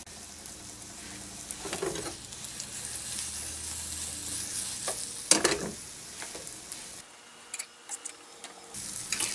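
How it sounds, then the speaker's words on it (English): Small pieces of fish meat sizzle and crackle steadily in a hot pan after the lid comes off, with a few louder stirring clatters and scrapes breaking through the continuous frying hiss. "I enjoy the sound of sizzle when I'm making food."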